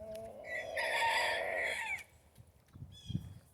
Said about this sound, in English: Kind of hoping to get one of my roosters. He's crowing.